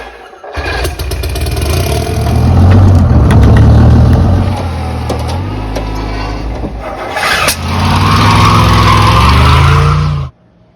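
A 1968 Buick Skylark Custom fires up and idles loudly nearby. Its engine roar rises and falls with revving, drops briefly, then surges again before cutting off abruptly near the end.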